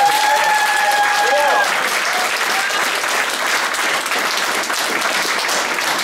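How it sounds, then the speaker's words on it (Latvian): A room full of people claps steadily and energetically for several seconds after a brief tone at the start. "Okay, clap your hands for the Lord."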